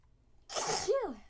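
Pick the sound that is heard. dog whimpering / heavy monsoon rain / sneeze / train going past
sneeze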